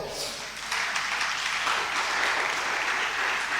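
A church congregation applauding during a worship service, a dense wash of clapping that swells after a softer start and holds strong, with some voices mixed into the crowd.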